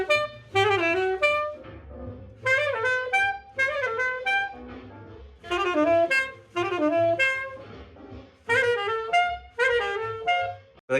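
Solo saxophone plays the bridge of a bebop tune, developing one short theme through quick phrases separated by brief pauses. The horn is close, clear and unaccompanied, with no talking.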